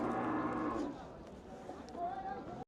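A cow moos loudly and close at a cattle market, one long low call that fades, followed by a softer second call.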